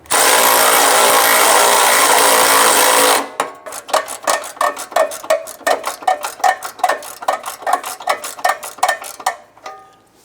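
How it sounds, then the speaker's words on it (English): A power tool runs loudly for about three seconds, then rattles off a quick series of sharp impact bursts while tightening nuts on a 2011-2021 Jeep Grand Cherokee 3.6L V6 during O2 sensor work. "so let's go ahead and tighten down the passenger side."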